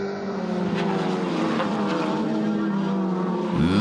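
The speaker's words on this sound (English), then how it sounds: "In car now with Michael Van Rooyen in the Toyota Gazoo racing car" Inside a Toyota Gazoo racing car at Killarney Raceway, Cape Town, the engine roars loud and close, holding a high, steady pitch before a sharp dip near the end as the driver lifts off.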